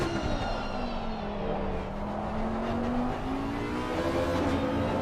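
An Audi GT3 race car in a sim racing game at Barcelona powers out of a tight left turn, its engine note climbing steadily and loudly as it accelerates, with steady tire and road roar underneath and no talk.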